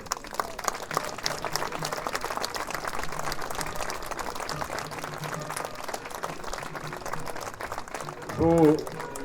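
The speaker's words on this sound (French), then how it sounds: "je pense qu'on peut encore les applaudir encore une fois" Applause from a crowd at an outdoor commemoration ceremony at a monument, steady dense clapping for several seconds under a murmur of voices, with a brief louder sound near the end.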